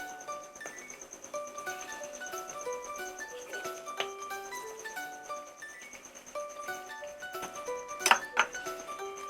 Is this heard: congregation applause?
no